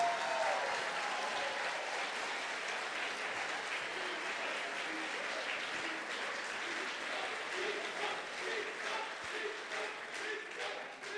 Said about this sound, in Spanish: merecen definitivamente un muy fuerte aplauso